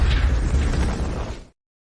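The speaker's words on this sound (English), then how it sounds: "I'm gonna press an explosion." A booming explosion sound effect triggered from a soundboard, one dense low rumble lasting about a second and a half before cutting off abruptly into silence.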